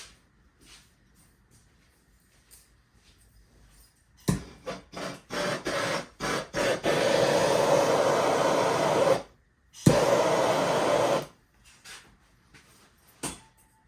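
A heat gun whirs in short bursts, then blows steadily for a few seconds while warming a part of a Husqvarna 362XP chainsaw during a teardown, with a pause, another steady stretch and faint handling clicks nearby.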